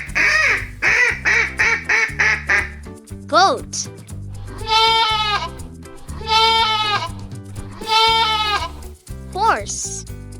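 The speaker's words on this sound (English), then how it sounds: "Goat." Goat bleating in three drawn-out, wavering calls, loud and close, after an opening run of short rhythmic blips; gentle background music continues throughout.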